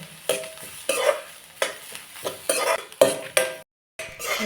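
Onions are sautéed in a pan with repeated bursts of sizzling and a spatula stirring and scraping in uneven strokes, then a short silence before the frying resumes.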